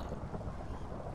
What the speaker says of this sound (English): Why do I hear thunder?